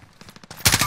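Rapid automatic gunfire in Call of Duty Warzone, a quick burst of sharp shots followed by a louder, denser volley, all within under a second.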